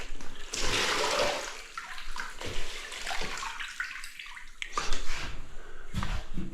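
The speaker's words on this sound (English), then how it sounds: "There's a fair bit of water squeezing out from a" Water pours and splashes as a sponge is squeezed out in a wet bathroom area, close and fairly loud, in uneven bursts and trickles with short pauses between them.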